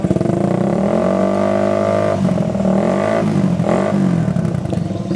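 A motorcycle's aftermarket DBS racing exhaust with fresh glasswool packing revs loudly up close, its engine note climbing and dipping in throaty, rasping bursts.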